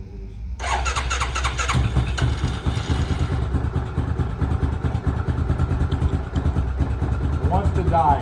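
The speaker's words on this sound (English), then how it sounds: "let's see if she starts reliably here" An ATV engine with a faulty carburetor cranks over and catches, then runs rough and loud up close, its uneven rumble sagging and bogging as it struggles to keep idling.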